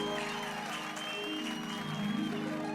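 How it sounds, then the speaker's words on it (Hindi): Audience applause for the cast of the Taarak Mehta Ka Ooltah Chashmah show, a dense steady wash of clapping from a crowd lasting throughout, with sustained musical tones underneath. "तो आप सब लोग इनके लिए ताली बजाइए"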